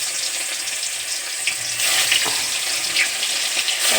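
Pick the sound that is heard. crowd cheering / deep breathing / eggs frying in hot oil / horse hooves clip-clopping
eggs frying in hot oil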